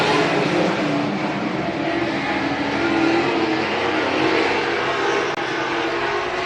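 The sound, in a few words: race cars overtaking on dirt speedway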